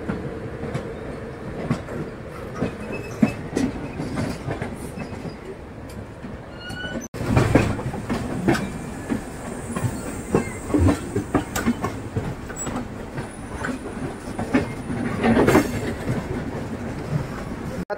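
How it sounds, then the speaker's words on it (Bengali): The Kamakhyapuri Express rolls steadily along the rails, a continuous rumbling clatter with irregular wheel clicks and occasional faint squeals, heard up close from on board. "এটা হচ্ছে কামাখ্যাপুরী এক্সপ্রেস।"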